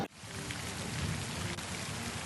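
Heavy rain pours down in Ghaziabad, a dense, constant hiss of drops hitting surfaces, loud and unbroken after a brief cut-in at the start, with no voices.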